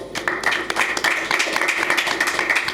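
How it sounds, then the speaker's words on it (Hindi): Audience members at a yagya gathering clap together to welcome a guest, a few seconds of brisk, even applause from a crowd with a faint voice underneath. "उनके लिए भी मैं ताली बजाकर एक बार स्वागत करता हूं"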